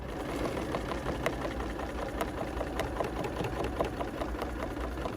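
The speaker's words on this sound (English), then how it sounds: "I am quilting along the ditch of my little scallop stitch here" Sewing machine quilting in the ditch along a scallop stitch, a close, continuous rapid motor hum with evenly ticking needle strokes throughout.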